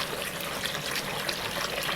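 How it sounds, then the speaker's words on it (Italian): Potatoes rinsed in a bowl of cold water, a steady, even wash of running and sloshing water heard close, with no voices. "le mettiamo all'interno di una bowl con acqua fredda, le risciacquiamo"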